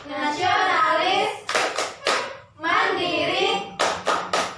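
Young pupils in a classroom chant the tepuk PPK cheer in unison, broken by rhythmic clusters of sharp claps after each chanted phrase, close and lively.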